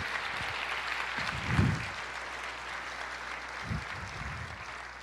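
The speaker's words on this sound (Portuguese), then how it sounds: "Aplauda o Senhor, libere esse júbilo para Jesus." A church congregation claps during an Easter service, a dense steady patter of hands spread across the room and holding fairly even throughout, with a couple of brief low thumps standing out.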